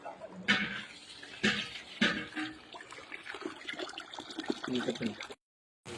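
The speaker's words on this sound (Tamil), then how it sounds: "வாங்க நம்ம அரிசி ஊற வச்சிடலாம்." Water splashes over rice set to soak for a large 10 kg mutton biryani batch, in several loud pouring bursts followed by softer trickling and sloshing, ending in a short silence.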